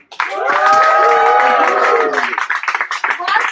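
An audience at a live band concert claps and cheers after a performance, with a sustained wash of hands and voices, some sung or shouted tones riding on top, thinning into scattered claps toward the end.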